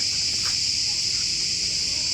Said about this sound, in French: Cigale en famille.